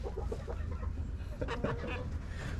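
Farm chickens clucking and murmuring close by, a busy overlapping chatter of short clucks and calls with a faint outdoor bustle underneath.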